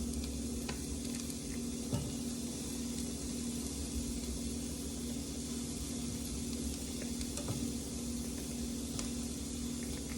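Mushrooms sizzle and fry in a pan on a stovetop turned down to about 250 degrees, making a steady, soft crackling hiss with an occasional faint clink.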